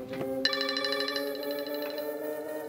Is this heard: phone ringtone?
yes